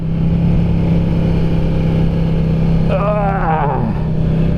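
A 2022 Ducati Diavel 1260S motorcycle's engine drones steadily at close range, then climbs sharply in pitch as it accelerates near the end, with wind noise throughout.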